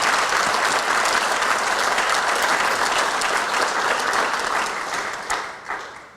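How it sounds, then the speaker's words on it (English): A hall of fame induction ceremony crowd claps in sustained, dense applause that stays loud and then fades out over the last second. "Let's give one more round of applause to the Excelsior Springs Quarterback Club."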